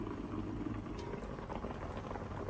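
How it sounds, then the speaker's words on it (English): Fish with pimento seed boils in a covered pot, giving a soft, steady low bubbling and rumbling with faint ticks, quiet and continuous throughout. "All we are gonna do right now is just cover it and let it boil."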